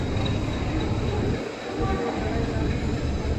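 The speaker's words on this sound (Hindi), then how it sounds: "ये सामने जा रही है सियालदह बनारस अमृत भारत एक्सप्रेस" Sealdah–Banaras Amrit Bharat Express passing at Santragachi railway station, a steady loud rumble of rolling wagons and wheels on rails throughout, with a brief dip partway through.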